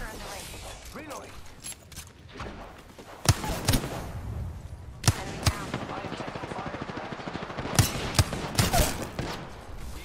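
Gunfire from an Apex Legends firefight, with sharp scattered shots and bursts along with mechanical clatter over a busy game soundscape.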